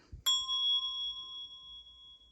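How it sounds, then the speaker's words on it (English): A single Montessori bell is struck once, giving a clear metallic ding whose pure tone rings on and slowly fades over the next two seconds. "Now we're going to strike the bell again."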